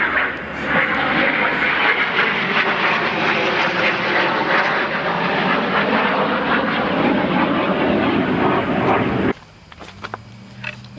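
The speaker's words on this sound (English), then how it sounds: "This is that plane flying overhead was one of the snowbirds." A Snowbirds aerobatic team jet flying overhead, a loud sustained engine roar filling the air for about nine seconds before cutting off abruptly, leaving quiet outdoor ambience.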